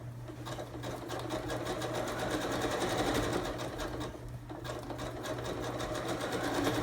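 A sewing machine stitches fabric for an envelope-back cushion cover. Its rapid, even mechanical chatter runs steadily throughout, close up, with a low motor hum beneath.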